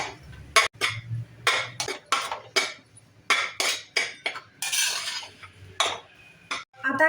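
A spoon scrapes and knocks against a pan while grated coconut is stirred into hot ghee, producing a steady series of close, sharp metallic clinks and scrapes in an uneven rhythm.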